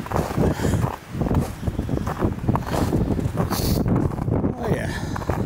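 A strong, bitterly cold wind blows very hard, roaring and buffeting the microphone in a constant loud rumble with gusty surges, and a voice is faintly buried underneath.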